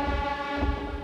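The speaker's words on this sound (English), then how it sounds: "I was hoping honking at them would give me some bonus time" A train horn from Densha de Go! 64 sounds as a sustained harmonic blare, loud and steady across the whole moment, over a low rumble of the train.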